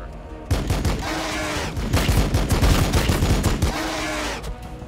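Gunfire from units in the Warhammer 40K: Battlesector strategy game, a dense, loud fusillade of rapid overlapping shots and blasts sustained for several seconds, with no talk over it.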